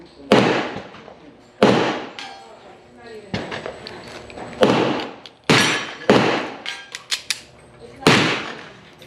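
Sharp, loud .45 ACP pistol shots using Lee 452-228-1R cast bullets ring out about six times at irregular intervals, each crack followed by a short echoing decay outdoors.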